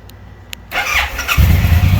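A stock 2014 Suzuki Boulevard M109R B.O.S.S. edition cruiser motorcycle cranks after a couple of clicks and fires up, its engine catching into a loud, deep rumble close by.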